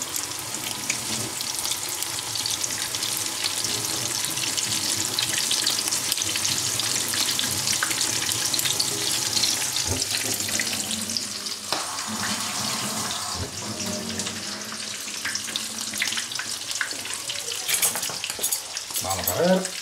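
A cachopo fries in a pan, a dense, steady sizzle and crackle throughout, close and fairly loud, with occasional clinks and shifts as it settles.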